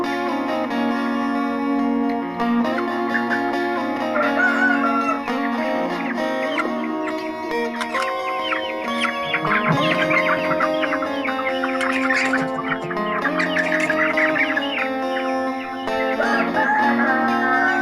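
Chickens in a coop cluck and call almost nonstop, several birds overlapping with occasional crowing, close and loud.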